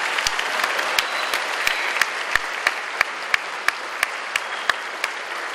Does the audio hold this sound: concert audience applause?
yes